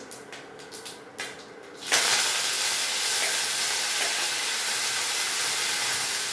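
After a few quiet taps, curry leaves and green chillies drop into hot oil already holding mustard seeds and cumin. A loud, sudden hiss bursts up and holds steady, close by, for a raw banana palya.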